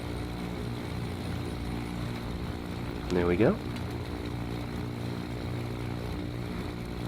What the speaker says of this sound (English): we'll press the ignition button for the right engine.